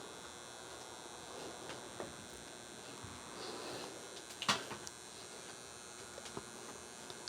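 A low, steady electrical buzz from an inverter on a DC circuit hums continuously at a quiet level, with a few faint clicks and one sharper tap partway through.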